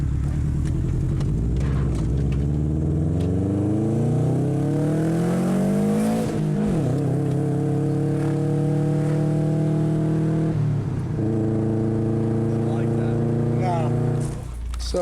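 A cheap Subaru WRX with a fault runs very high turbo boost, its engine note rising loud and close through the gears with a brief dip at the shift, a steady roaring drone dominating throughout.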